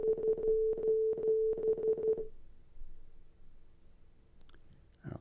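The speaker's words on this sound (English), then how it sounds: "That was the SOS signal sent in International Morse Code." Morse code SOS tapped out as a steady tone in short and long beeps: three short, three long, three short, loud and clear, followed by quiet room noise and a faint click near the end.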